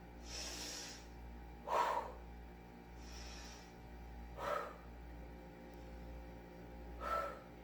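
Deliberate workout breathing, sharp audible exhales roughly every two to three seconds alternating with softer hissing inhales, close and alone over a faint steady hum.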